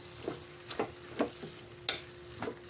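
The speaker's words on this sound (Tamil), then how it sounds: "அதையும் போட்டு ஒரு கிண்டிக்கலாம் மிளகாய்த்தூளையும்" A spoon scrapes and stirs chili powder through masala sizzling in a pan during bachelor-style cooking in Saudi Arabia, with several distinct scraping strokes spaced out over a soft, steady frying hiss and no talk.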